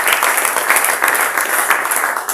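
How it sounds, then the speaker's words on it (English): Dense, loud applause from an audience at a football coaching course, a close, continuous wash of many clapping hands with no pause. "A round of applause for him."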